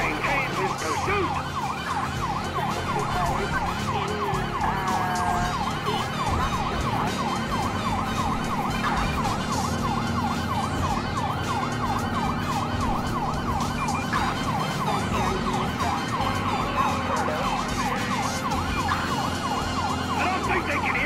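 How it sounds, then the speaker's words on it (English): Police car sirens wail continuously during a high-speed pursuit through a tunnel in Grand Theft Auto V, loud and close over a steady engine and road rumble. "I don't think they can hear the sirens."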